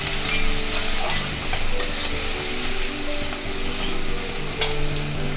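Chopped onions fry in oil for fish kalia while being stirred, a loud, close sizzle with spoon scrapes and clatters running through it, and a sharp knock near the end.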